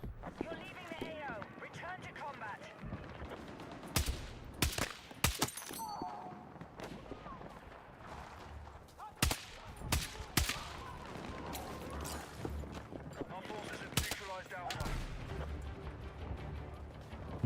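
Video-game gunfire comes in quick bursts of sharp shots scattered throughout, under steady background game noise and a voice talking over it.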